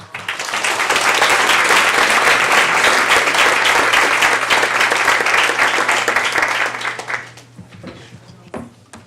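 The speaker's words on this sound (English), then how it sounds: "give our speakers, Steve, Jeff, and Amanda, another round of applause for spending time with us this morning" Audience applause at a community suicide prevention discussion, dense sustained clapping for about seven seconds that thins out into scattered claps at the end.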